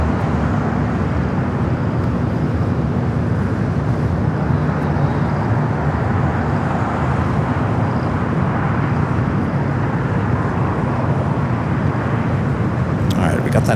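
An Air Canada Airbus A220-300 jet rolling down the runway at LAX gives a continuous, loud, broad roar that holds steady throughout, with airport ambience mixed in.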